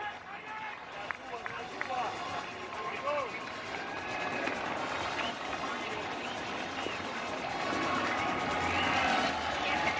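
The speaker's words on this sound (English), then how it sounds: "Lively crowd on hand." Lively crowd noise at a Caribbean Series baseball game between Mexico and Puerto Rico: a steady, dense roar of spectators throughout, with commentators talking over it.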